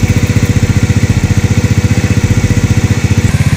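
A Honda XRM/Wave-type motorcycle engine idles while warming up, running loud and close with a fast, even, steady putter throughout.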